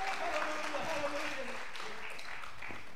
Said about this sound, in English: So, give him a hand clap.